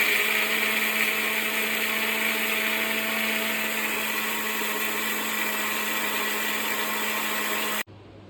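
Mixer grinder whirring loudly and steadily while grinding pesarattu dosa batter, a continuous high motor whine that cuts off abruptly before the end.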